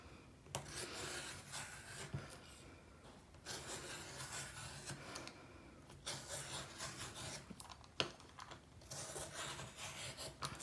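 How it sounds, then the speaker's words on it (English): A circle cutter's green blade runs around the inside track, slicing paper circles from scraps in several separate rasping passes, each a few seconds of close, soft scraping with short pauses between. "I'm just going to use the green blade on the inside track, and because we've got enough there for 6 flowers, I'm going to cut 6 circles."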